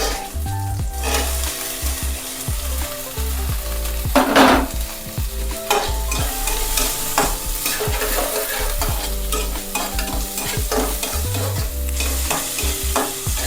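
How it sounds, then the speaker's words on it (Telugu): Green chillies and onions sizzle in oil in a pan, with steady frying hiss and repeated stirring scrapes and clinks of a utensil against the pan, close up and without talk. "ఇదే ప్యాన్లో కొంచెం ఆయిల్ వేసుకొని పచ్చిమిర్చి వేసుకున్నాం, ఉల్లిగడ్డ,"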